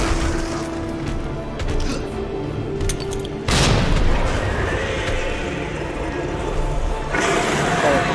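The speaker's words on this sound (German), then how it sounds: "Ich hab doch noch eine Granate." A grenade detonates in Resident Evil 2 Remake with a heavy, booming blast partway through, rolling into a sustained rumble over a constant loud game background, with a second surge near the end.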